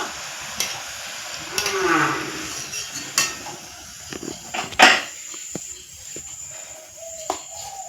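Semolina sweets frying in hot oil until reddish, a soft continuous sizzle close by with occasional metallic clinks and taps from a spoon against the vessel, and no talking.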